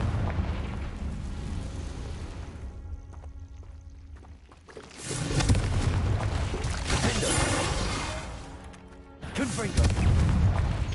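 Confringo fire spell explosions in Hogwarts Legacy: two loud, broad blasts, each with a long rumbling tail, heard after a quieter stretch of game sound.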